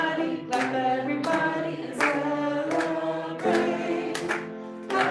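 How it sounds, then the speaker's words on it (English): Rhythmic group clapping at a Diwali celebration in an interfaith gathering, regular beats roughly every three-quarters of a second over sustained sung music, moderate level. "Clap everybody, let's celebrate with joy"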